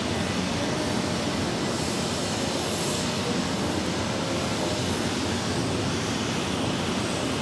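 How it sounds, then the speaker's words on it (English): A jet airliner moves along runway 28 at Zurich Airport, giving a continuous broad engine roar that stays loud and steady from start to finish, heard from a spotting position with no talk. "we've got something moving on runway 28. That jet's moving."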